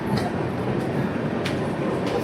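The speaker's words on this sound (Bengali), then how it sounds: "এই আমাদের ট্রেন স্টেশন থেকে ছেড়ে বেরিয়ে চলে যাচ্ছে" A train pulls out of a railway station near Balasore, a steady rumbling roll of wagons with faint rail clatter, heard nearby and fairly loud, with no voices.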